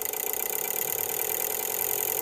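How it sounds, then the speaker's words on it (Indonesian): An ECU simulator reproduces fuel injector signal pulses at raised RPM as a fast, even, buzzing tick, like a real engine's injectors. The sound is close and steady, with no speech. "Nah, ini suara sinyal injektornya seperti itu ya, seperti di mesin asli."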